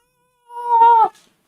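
A cat lets out a single drawn-out, tonal meow, close and clear against silence, lasting about half a second before cutting off.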